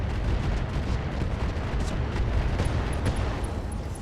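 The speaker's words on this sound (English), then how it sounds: "So we'll fire on the Banshee, straight into that weakened side arc." Mech weapons fire in the RogueTech mod of BattleTech, a dense, sustained barrage of booming blasts and crackling impacts on a target mech, loud and continuous with no talk.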